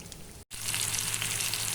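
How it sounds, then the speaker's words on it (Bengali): Chopped onion and green chillies hit hot oil in a home kitchen while cooking rohu fish with kohlrabi, producing a steady close sizzle with a brief gap before it swells to a fuller, even hiss. "এখন আমি তেলের ভিতরে পেঁয়াজ কুচি, মরিচ পেড়ে দিয়ে দিয়েছি।"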